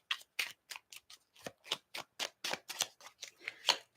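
Playing cards shuffled by hand at close range, a rapid series of crisp papery riffles and snaps in an uneven rhythm, quiet and with no talking.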